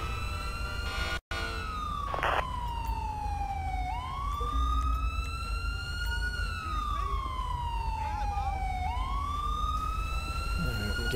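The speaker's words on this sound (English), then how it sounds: "Get his ass back to the car and kill the siren." A police car siren in the video game LSPDFR wails in long, sweeping rising and falling cycles, loud and continuous, with a brief dropout near the start and game road noise underneath.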